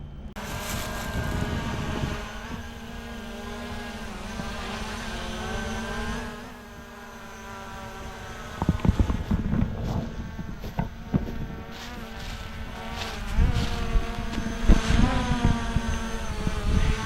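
A small drone buzzes with a high, steady whine that wavers in pitch as it is put in the water, joined by splashing and rustling noises toward the end.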